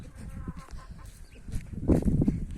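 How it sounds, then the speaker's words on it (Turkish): Chickens cluck nearby in short irregular bursts, growing louder toward the end, with rustling farmyard background. "Tavuk gel buraya tavuk"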